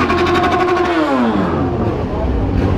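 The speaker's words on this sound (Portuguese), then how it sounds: "O Renato colocou uma ponteira na moto" Close and loud, a motorcycle fitted with an aftermarket exhaust tip revs hard, its raspy tone sliding downward in pitch as the throttle eases off into a rumbling idle.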